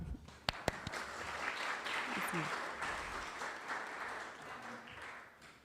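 A crowd applauds steadily from a distance, a soft continuous patter that swells and then gradually tapers off, with a couple of sharp knocks early on.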